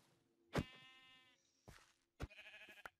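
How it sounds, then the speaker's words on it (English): Sheep in the Minecraft video game bleat loudly and close, three separate calls with short gaps between them and no talking. "Look at you, you horny little sheep!"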